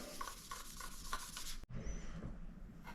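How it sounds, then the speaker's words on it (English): Scotch-Brite pad with purple metal polish scrubbing a pitted handlebar on an 80s Raleigh Grand Mesa bike, a steady close abrasive rubbing with rhythmic strokes, briefly interrupted by a short pause midway. "We're just gonna take some Scotch-Brite and some purple metal polish, and we're just gonna start scrubbing."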